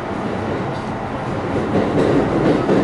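A Kintetsu Vista Car double-decker train rumbles past close by, a steady rolling roar that swells toward the end.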